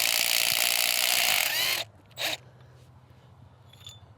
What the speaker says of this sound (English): Let's see if it'll pull one of these 15mm head bolts out.